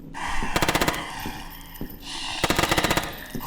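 Gunfire from a weapon in the horror video game HellSign, aimed at a poltergeist: two loud, close bursts of rapid automatic shots, each about half a second long, separated by a short gap.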